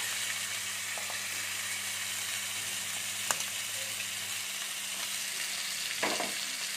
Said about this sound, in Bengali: আমি আলুগুলো দিয়ে দিচ্ছি। আলুগুলো একটু আমি ভেজে নেবো।